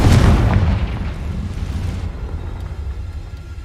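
A Confringo blasting spell explodes in the Hogwarts Legacy video game, a loud booming burst at the start that rolls into a long rumbling decay.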